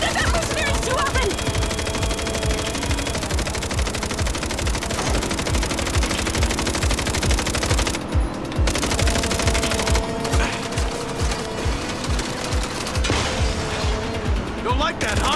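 Sustained rapid bursts of machine gun fire in a video game, dense and loud throughout, with gunshot rattles overlapping game sounds and only brief gaps.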